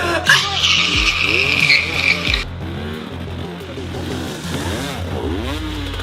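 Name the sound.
dirt bike engine on forest hill climb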